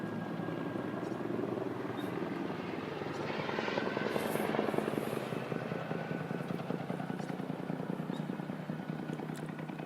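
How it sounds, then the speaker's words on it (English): Helicopter passing overhead, its rotor chop loud and steady, swelling toward the middle and then easing, with no one talking. "there's a helicopter going over"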